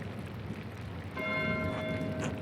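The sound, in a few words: church bell ringing in Pentiment video game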